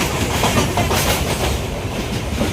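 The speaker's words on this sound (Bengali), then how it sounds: "আজকে এখন ট্রেন ছেড়ে দিয়েছে, আর এখন দৃশ্য দেখতে দেখতে যাচ্ছি" A moving passenger train heard from inside the carriage: a loud, continuous rumble with a steady clickety-clack from the wheels.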